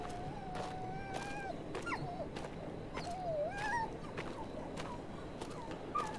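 Pained whimpering from a dog stuck in a trap in the horror game Maid of Sker: several wavering, high whines and short yips recur over a constant droning background with occasional sharp ticks.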